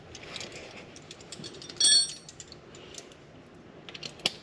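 A brief metallic rattle and click as a grease fitting is unscrewed from the clutch cover of a Polaris Ranger 900, quiet and close, with small tool ticks before and after.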